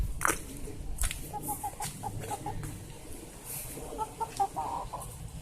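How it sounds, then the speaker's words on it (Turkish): Hens and roosters in a backyard garden, giving scattered soft clucks and short calls at close range against a quiet outdoor background. "Şimdi size tavukları, horozları göstereceğim."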